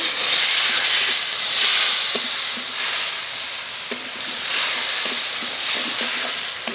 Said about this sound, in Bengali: একটু জল দিয়ে মশলা কষিয়ে নেব